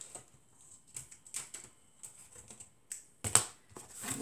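Quiet, irregular crisp snips and clicks, close by, ending in a louder sharp cut, like scissors working through paper.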